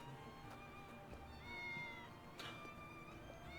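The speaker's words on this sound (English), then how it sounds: "Cat!" A cat in the video game Triangle Strategy meows a couple of times over quiet game music, close and moderately loud.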